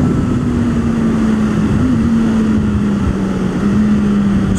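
A car pulls away on a racetrack, its engine giving a loud, steady drone that holds at a constant pitch for the whole stretch with no speech over it.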